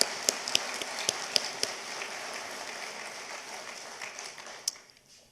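Audience applause at a lecture honoring the Society of Cincinnati, a dense patter of clapping with a few sharper claps standing out, fading toward the end.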